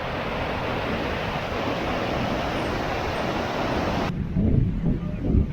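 Rushing river and waterfall on a wide Himalayan riverbank at Sissu in Lahaul, a dense steady roar of water that runs loud throughout, turning rougher with low buffeting rumble near the end.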